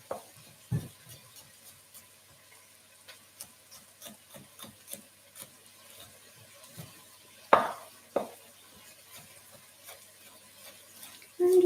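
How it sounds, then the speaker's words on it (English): Kitchen knife slicing five double garlic cloves into thin slices on a board, close and quiet: a scatter of soft, irregular taps and scraping strokes, a few louder knocks near the middle and at the end. "I'm just kind of creating thin slices here."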